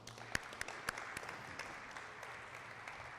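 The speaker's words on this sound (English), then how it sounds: "clap him up." Quiet, distant applause at a school graduation ceremony, with scattered individual claps standing out from a soft, thin background of clapping.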